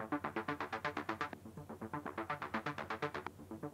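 Repeated synth chords pulse through a Logic Pro auto filter whose sweep rises every bar, giving a steady throbbing rhythm of bright stabs that swell upward in brightness, clear and alone.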